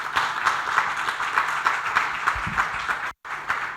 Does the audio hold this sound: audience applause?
yes